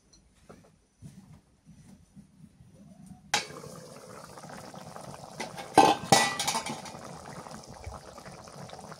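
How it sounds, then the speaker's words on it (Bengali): A lid is lifted off a pot of goat meat and potato curry cooking on a village stove. Quiet low rumbling gives way to steady bubbling and boiling once it comes off, with a sharp metallic clink partway through. "ডাইকে রাখি এবার ঢাকনা তুলি, শেষ তরকারি রান্না।"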